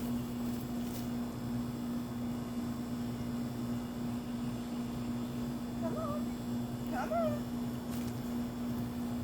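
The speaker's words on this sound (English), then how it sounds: "The neighborhood cat has decided it's time to be fed" A neighborhood cat meows to be fed: two short, fairly faint calls in the latter half, set against a steady low hum and background hiss.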